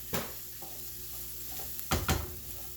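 Uncooked rice toasting in a pan for mushroom risotto, stirred with a soft scraping sizzle; low and steady, with a couple of louder stirring scrapes near the end.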